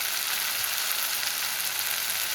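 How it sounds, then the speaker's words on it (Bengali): Turmeric, chili and cumin sauté in hot oil for a katla fish curry, giving a steady, close, bright sizzle throughout with no talking. "দিয়ে ভালো করে সাতলাই এই যে হলদি, মরিচ, জিরা দিয়ে দিয়েছি।"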